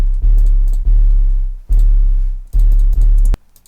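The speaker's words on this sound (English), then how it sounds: "Just basic 808." Basic 808 bass drum hits boom out four times, each a loud, deep, sustained tone that decays slowly before the next strike, ending with a short tail.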